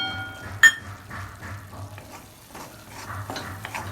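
Chicken liver fries in masala in a pan, with a low sizzle under scraping stirs and a sharp metallic clink early on, all close and fairly quiet.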